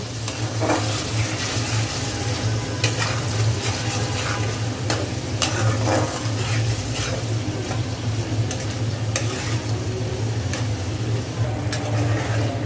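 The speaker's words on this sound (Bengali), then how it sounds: "এখন মশলাটা খুব ভালোভাবে কষিয়ে নেব।" Masala paste of ginger paste, coriander powder, turmeric and salt, stir-fried in a pan for a duck bhuna, gives a constant close sizzle with frequent rhythmic spatula scrapes and ticks against the pan, and no one speaking.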